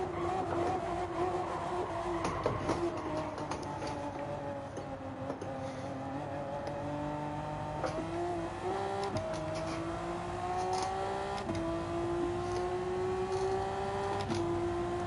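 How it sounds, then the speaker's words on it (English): Honda NSX naturally aspirated V6 race car in Gran Turismo 7 during a GT3 lobby sprint race, a steady loud engine drone with gear-shift pitch steps throughout, no talk over it. "And then you can listen to the noisy Honda NSX V6. Naturally aspirated."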